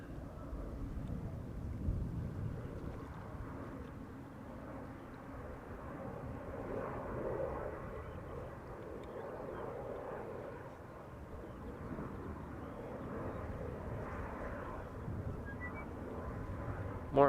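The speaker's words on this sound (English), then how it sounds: "More Embraers." Embraer jets at Amsterdam Schiphol Airport give off a distant, steady engine roar that swells and fades a little over a long stretch, mixed with outdoor wind noise.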